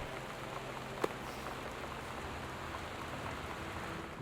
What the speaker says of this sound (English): I'm gonna chalk that up as rain.